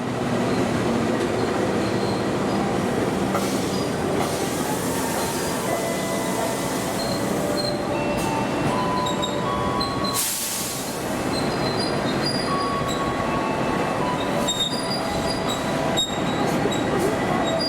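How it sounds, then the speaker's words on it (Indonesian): The Argo Parahyangan passenger train pulls into platform 4 at an Indonesian station, a loud, sustained rolling rumble with squealing wheels and metallic clatter close by, and a brief dip midway before the noise resumes. "Jalur 4 masuk kereta api Argo Parahyangan jalur 4."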